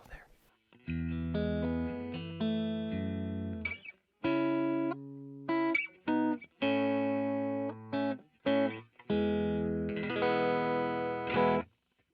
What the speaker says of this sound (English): here's the clean tone, so to speak, but you do have a little bit of that overdrive still there